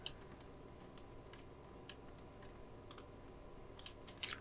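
Typing on a computer keyboard, a quiet run of irregular key clicks at close range, faint and without speech.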